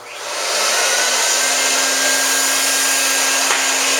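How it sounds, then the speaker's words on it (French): A carpet cleaning machine used on paint-stained carpet and floor starts up, its loud steady motor whine rising within half a second and then holding constant and close, with no talking. "Donc, on va démarrer notre machine."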